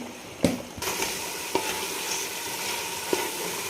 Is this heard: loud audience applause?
no